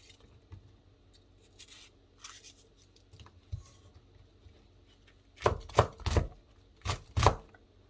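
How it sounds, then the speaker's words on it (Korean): A knife chops Cheongyang green chilies and red chilies on a board, at first with a few soft, sparse strokes, then a quick burst of sharp, close cuts near the end. "쫑쫑쫑 썰어서 준비해 주고"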